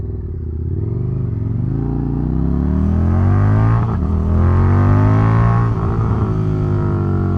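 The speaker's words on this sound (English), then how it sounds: "You have to really move yourself around this motorcycle." Indian FTR1200 motorcycle fitted with 17-inch sportbike tires, its engine droning loud and close, rising steadily in pitch as it accelerates, with no talking.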